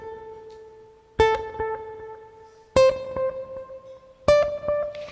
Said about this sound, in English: The next pedal that I have here that I'm going to engage is my delay pedal, or an echo.